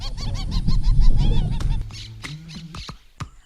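A flock of birds honks and calls in a dense, close chorus for over a second, then thins into a few scattered squawks and clicks, all outdoors in a wild setting.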